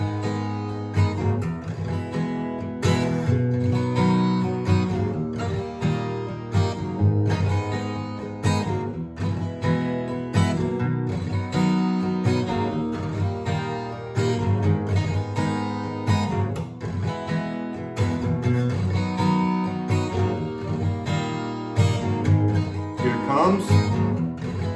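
Guitar plays the final chorus of a song: dense, steady strummed chords with a continuous loud, driving pulse and no talk.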